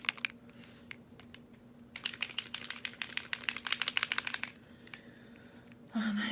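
A turquoise patina bottle with a mixing ball inside is shaken for a close, rapid burst of rattling clicks that swells mid-clip and then stops, with a quieter tapping before it. No one speaks.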